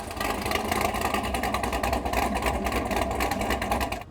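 A cammed, naturally aspirated V8 engine in a Chevrolet Corvette C8 idles steadily with a lumpy, pulsing rumble, continuous and fairly loud throughout, no voices.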